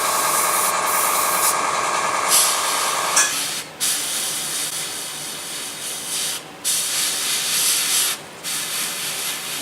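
Burnt metal paint sprayed from a can onto a Tamiya Williams FW24 model: a close, loud continuous hiss broken by several short pauses and restarts.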